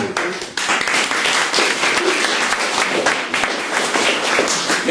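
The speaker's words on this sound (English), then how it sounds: "great applause for the work that she has done in the last 3 months." A crowd applauds at a creative writing open mic event, with dense, sustained clapping throughout that sounds full and fairly near.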